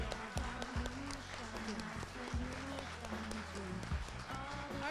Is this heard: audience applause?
yes